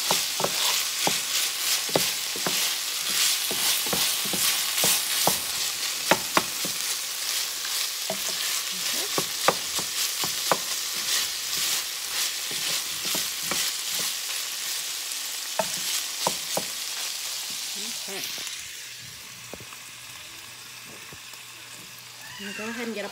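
Mild Italian sausage sizzles and fries steadily in a pan, with frequent clacking stirs of a utensil against the pan over the continuous crackle, quieting toward the end.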